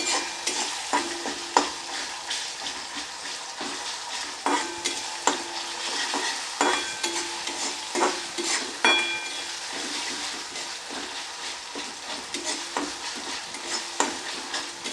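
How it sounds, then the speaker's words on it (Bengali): Chopped tomato stirred and frying in a pan for an egg omelette curry: a steady sizzle punctuated by repeated scraping spatula strokes, close and alone without talk. "টমেটোটা দিয়ে ভালোভাবে আমি নাড়তে থাকবো।"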